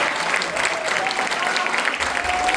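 A church congregation applauding the children, a dense continuous wash of clapping held steady throughout, with a voice faintly mixed in underneath.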